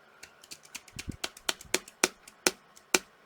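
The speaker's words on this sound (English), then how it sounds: "see if this keyboard works" A plug-in keyboard on an iPAQ handheld being typed on, a run of about a dozen sharp plastic key clicks at an uneven pace, close and clear with no talking.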